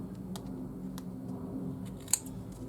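Scissors trimming the end off journal cover material, a few quiet, close snips over a low background hum, with one sharper click near the end.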